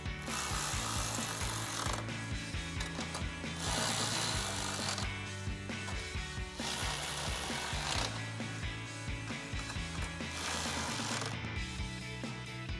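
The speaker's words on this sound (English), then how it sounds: "we'll grab our 10mm socket to tighten that down" Ratchet with a 10mm socket tightening the upper grille bolts on a 2014-2015 Silverado 1500, heard as repeated bursts of clicking under steady background music.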